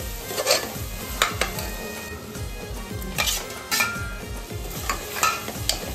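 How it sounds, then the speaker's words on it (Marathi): Mutton going into a fully cooked, oily gravy in a pan, followed by repeated scraping and stirring strokes against the metal with a low sizzle underneath, close and rhythmic. "आता आपण यात मटण टाकणार आहोत"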